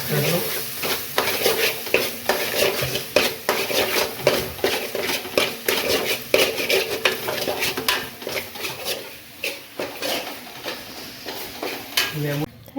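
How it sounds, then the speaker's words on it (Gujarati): A spoon stirs spiced potato filling for batata vada in a hot pan, scraping and clinking in quick repeated strokes over a low sizzle, while people talk faintly in the background. "મિક્સ કરી દો"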